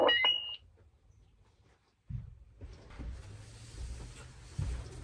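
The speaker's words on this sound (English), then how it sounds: "I'm just hearing a loud ass beeping." A brief burst of high electronic beeping from a scrambled, encrypted analog radio at the start, then quiet, followed by a low rumbling hum that rises and continues.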